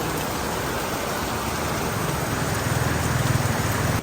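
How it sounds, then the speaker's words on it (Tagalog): Heavy rain pours down steadily in a dense, loud hiss that thickens slightly toward the end, with no voices. "Ang problema lang po ngayon ay napakalakas ng ulan."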